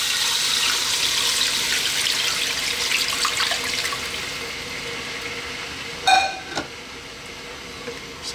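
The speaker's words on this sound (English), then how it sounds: "Now I'm going to add some water. You can use chicken stock if you want." Water pours steadily into a pot of chicken kabsa on the stove, a continuous splashing stream that fades out before a brief clank near the end.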